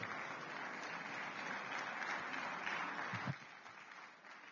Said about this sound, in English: I thought we'd do a better round of applause.